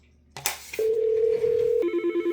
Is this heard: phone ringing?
yes